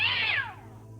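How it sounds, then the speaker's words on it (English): A cat in the VGA remake of the adventure game King's Quest III gives a single short, clear meow that falls in pitch and fades against a low steady hum. "Nimbly you grab the nasty cat by the scruff of its neck, avoiding its needle-sharp claws."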